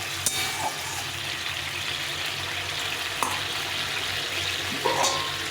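Spice paste for a cauliflower-style curry sautés in a pan, a steady soft sizzle with a few sharp clinks of a spoon against the metal, fairly quiet and close, with no voices.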